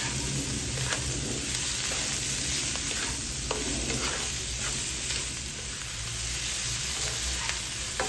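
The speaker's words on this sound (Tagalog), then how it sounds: "Ngayon, nagpipimpis na yung ating hipon." Shrimp and onion sauté in a hot pan for fried rice, a steady close sizzle with occasional stirring scrapes running unbroken throughout.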